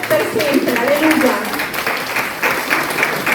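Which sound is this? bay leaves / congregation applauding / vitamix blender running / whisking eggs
congregation applauding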